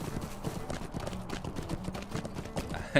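Horse hooves patter in the fantasy online game The Lord of the Rings Online, a quick, busy clip-clop at a brisk pace over a continuous game backdrop, moderately loud, with no voices.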